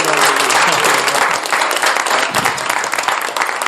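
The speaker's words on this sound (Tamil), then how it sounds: "நல்ல ஒரு கைத்தட்டல் கொடுமா" Audience applauding a musician at a live music performance, a dense sustained wash of clapping that stays loud throughout and eases slightly partway before continuing.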